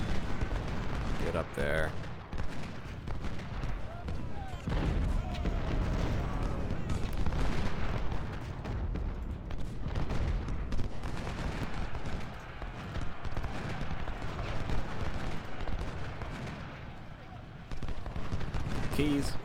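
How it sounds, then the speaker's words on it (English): Booming artillery and rifle fire in the Civil War strategy game Ultimate General: Civil War, a dense, continuous rumble of distant cannon and musketry at the First Bull Run battle, with someone talking over it. "We've got our artillery lined up, laying down fire."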